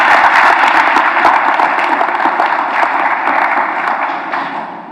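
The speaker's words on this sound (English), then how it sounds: "We'll give him a round of applause too." A commencement ceremony crowd applauds steadily, dense clapping filling the whole stretch with no voices, holding at a fairly even loudness before easing slightly.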